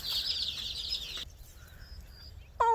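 Chicks in a pen under a red heat lamp make a dense, high chorus of peeping and cheeping, close and continuous at first, then thinner scattered chirps, ending with a sharp louder call.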